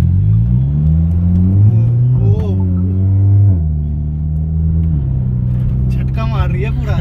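A Maruti S-Presso small hatchback drives and accelerates, its engine note climbing and dropping back through several gear changes, close and loud, while people talk over it.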